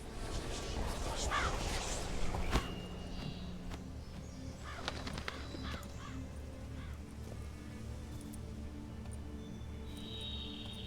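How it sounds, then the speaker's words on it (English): A giant crow in The Witcher 3: Blood and Wine caws a few times over steady game ambience, with faint hoof-like clopping and other bird sounds mixed in at moderate distance. "That crow is giant."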